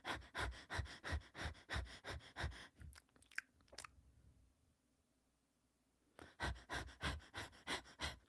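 A human voice imitating a dog's heavy breathing and snoring: rhythmic, wet panting snorts in a steady pulse, a short pause with a few sniffs and near-silence, then the panting rhythm resumes, close and intimate.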